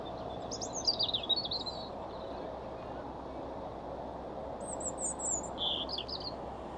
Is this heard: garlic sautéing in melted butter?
no